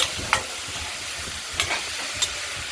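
Thin-cut pumpkin frying in oil in a wok with mustard seeds and green chilli, a soft continuous sizzle broken by three quick scraping strokes of a stirring spoon, close and alone.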